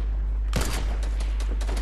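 A quick burst of gunfire in Fortnite starts with a sharp crack, followed by several rapid, fainter shots in a ragged rhythm over a heavy low hum.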